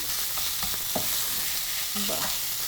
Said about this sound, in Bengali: একটু ভেঙে একদম ভেজে ভেজে হ্যাঁ ভেজে ভেজে নেওয়া হচ্ছে